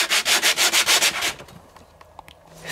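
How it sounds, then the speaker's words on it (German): Short wooden boards are sanded by hand in rapid rhythmic strokes, about eight scraping passes close up, before the rubbing stops and a few small clicks and knocks follow in quieter surroundings. "hier werden schon fleißig die kurzen Bretter geschliffen"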